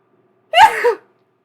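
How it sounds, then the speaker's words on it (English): One sharp human sneeze bursts out of silence, a quick breathy intake and a loud nasal explosion lasting about half a second, close and clear. "Happens once a day pretty much where I have a sneeze fit."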